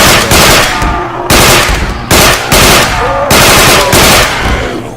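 Bursts of rapid automatic gunfire from weapons in the GMod nZombies game, loud and close, firing in about five sustained volleys separated by short pauses.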